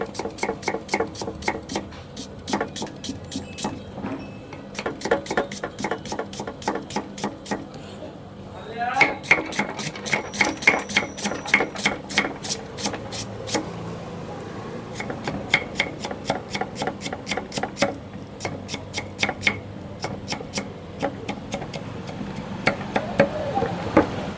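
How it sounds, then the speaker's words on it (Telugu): Knife finely chopping onions on a board for upma, a long run of fast, even taps close by that pause briefly and resume, with faint background talk. "ఆనియన్స్ని ఎలా కట్ చేసుకోవాలో నేను చూపిస్తాను మీకు"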